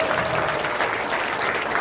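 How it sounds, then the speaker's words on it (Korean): Audience applause at a campaign rally launching a presidential election committee, a dense, steady burst of clapping from a crowd lasting a couple of seconds. "이거부터 박수 하나."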